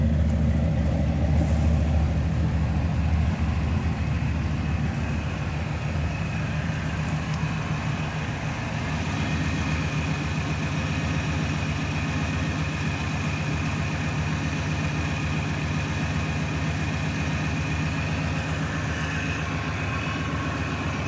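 A parked car's engine idles steadily close by, a continuous low hum with a faint rattle that holds even for about twenty seconds, no voices over it.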